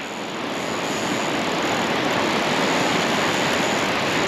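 Line peels off a fishing reel against its drag as a big fish runs on an Australian south coast beach, a continuous loud hissing rush with no breaks, heard close and alone.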